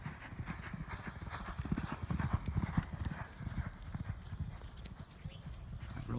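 Racehorses, a Mineshaft gelding and a Temple City colt, work side by side on a track, their hooves drumming in a dense, rapid, continuous beat at moderate distance, with a faint voice and snorts now and then.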